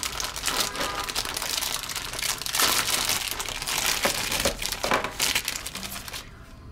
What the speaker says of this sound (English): So I'm now unwrapping these dolls.